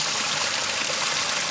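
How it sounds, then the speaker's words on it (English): A small garden waterfall edged with ferns, giving a steady, close, broadband rush and trickle of falling water with no other sounds. "That's a waterfall."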